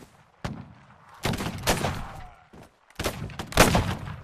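Soldiers' musket volleys in the strategy game Caribbean! sound as a single sharp crack followed by two heavier, crackling bursts of massed gunfire with short quiet gaps between them.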